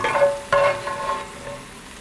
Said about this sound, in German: Dann werde ich den Rest anbraten.